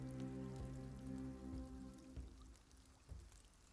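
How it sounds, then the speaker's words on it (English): Spring rain falls steadily with soft patter on surfaces, faint and continuous, with a low background hum and no voices. "It's rainy."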